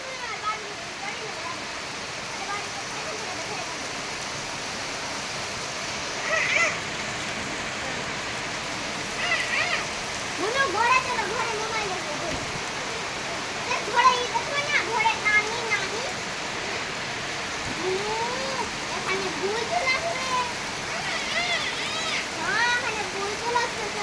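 Rain falls steadily outdoors as two young girls play in it, a soft continuous patter with splashes, while children's voices and an adult's calls come and go over it.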